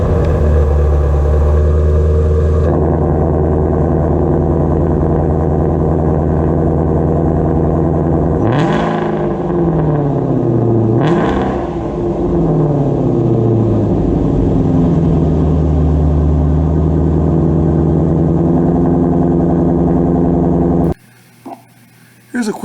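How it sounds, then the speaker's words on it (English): A 2018 Ford Mustang Shelby GT350 with its 8,200 RPM redline rumbles at idle, then revs twice in rising and falling sweeps, loud and close before cutting off near the end. "it has one of the best sounding exhaust notes in the world"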